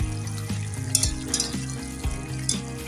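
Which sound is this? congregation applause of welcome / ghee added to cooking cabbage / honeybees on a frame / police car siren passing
ghee added to cooking cabbage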